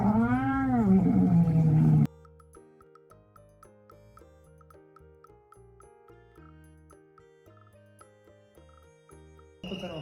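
A cat gives a long, rising-and-falling meow up close before a soft, tinkling music-box-style tune takes over, with another short meow at the very end.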